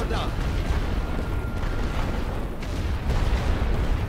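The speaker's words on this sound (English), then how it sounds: "I don't think I would have ever fired so much artillery in one particular game." Heavy artillery bombardment in a Great War Western Front game, a constant rumbling barrage of deep booms and explosions rolling on without pause, with someone talking over it.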